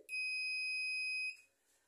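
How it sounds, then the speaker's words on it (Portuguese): A continuity tester gives a steady, piercing electronic beep that holds for over a second and then cuts off, leaving near silence. "Bip sonoro do aparelho."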